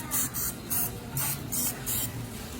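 Several short hissing bursts of cooking spray onto a corn dog maker, about six evenly spaced puffs, close and fairly quiet.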